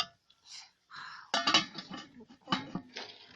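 A lid going onto a solar electric cooker, a short run of metallic clinks and clatters up close, scattered and uneven, with quiet gaps between them.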